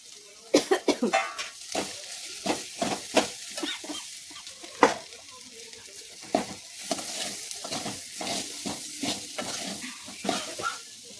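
Boiled potatoes stirred and scraped in a pan for potato curry, with repeated irregular strokes over a soft sizzle, close up and fairly loud.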